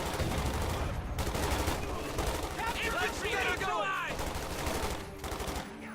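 Machine gun fire in the World War II strategy game Company of Heroes 2, dense rapid bursts mixed with other battle gunfire, loud and continuous, with game sound layered throughout.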